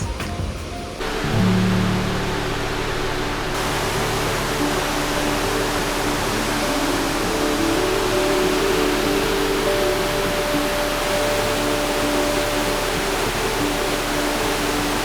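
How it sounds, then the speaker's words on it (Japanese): Nunobiki Falls near Kobe produces a steady, full rush of falling water that stays loud and constant throughout, with a low hum and faint tonal sounds mixed in. "こちら布引の滝にやってきました"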